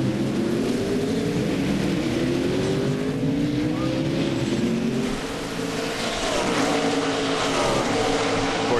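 NASCAR Busch Series stock cars race at the Montreal circuit, their engines roaring loud and continuous as the pitch rises and falls through gear changes, with several cars overlapping.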